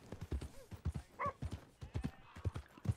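Hoofbeats of a galloping horse in Red Dead Redemption 2 pound in a steady clip-clop rhythm, close and fairly loud, with a short whinny from the horse partway through and no talking.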